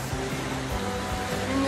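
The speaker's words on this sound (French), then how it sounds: "On vient de traverser une petite rivière," A small river on a hiking trail in Nepal rushes with a continuous broadband wash of flowing water, close and steady, with a voice speaking over it.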